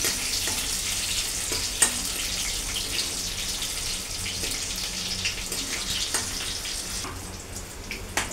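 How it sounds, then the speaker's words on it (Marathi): Curry leaves frying in hot oil for a traditional Konkan rice ukad, a steady close crackling sizzle with occasional sharper pops throughout, no talk. "चांगलं फ्राय व्हायला द्यायचं।"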